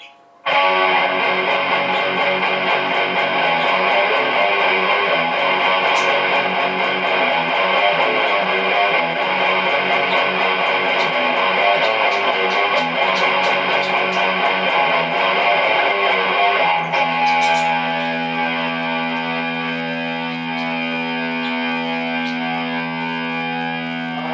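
A heavily distorted electric guitar through a Marshall Code 25 modelling amp preset plays sustained chords with effects, then settles into a held, ringing chord near the end.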